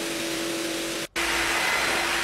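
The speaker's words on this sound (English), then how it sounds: "Hoover up the last bits, and that's job done" A pool vacuum hoovers the last debris from a flat-bottomed pool floor, a steady loud broadband whooshing drone that cuts out for a split second and then resumes, with no talk.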